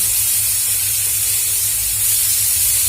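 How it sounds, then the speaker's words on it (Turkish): Thin slices of beef sear in a hot pan for a Turkish külbastı, giving a steady, loud, close hiss and spray-like sizzle with no talking. "Etimizi mühürledikten sonra hemen çeviriyoruz"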